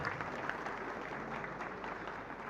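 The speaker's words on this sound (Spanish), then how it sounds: "Y un fuerte aplauso entonces para el Señor." A congregation at a Catholic thanksgiving mass applauds together, a steady, moderately distant patter of many hands clapping that fills the church for a few seconds without a break.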